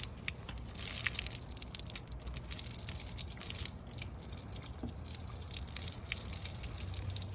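Boiling water is poured onto a dented car panel, splashing and dripping in a soft, continuous trickle with scattered drops, fairly faint and without voices.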